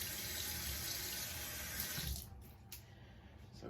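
Tap water running into a sink while a face is rinsed, a steady loud rushing stream that cuts off partway, leaving a quieter trickle and drips.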